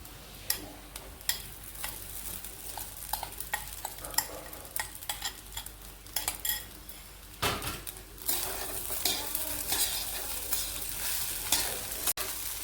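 Soaked sabudana is stirred in ghee in a pan, with a spoon ticking and scraping against the metal in quick irregular strokes over a soft sizzle, fairly close, with no one talking.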